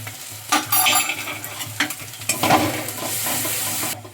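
Masala with tomato sizzles in hot oil as it is sautéed and stirred in a pan for shahi paneer. A spatula scrapes and clatters in irregular strokes over a close, continuous frying hiss, with no talking.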